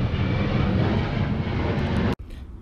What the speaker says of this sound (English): a plane ruining my audio